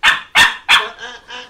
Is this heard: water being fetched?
no